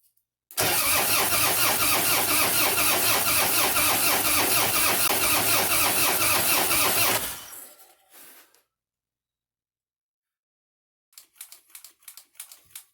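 A Harley-Davidson motorcycle engine turning over for its first start after a base gasket rebuild: a loud, steady, rapid cranking rumble for about seven seconds that winds down, a brief sputter, silence, then a few faint scattered clicks.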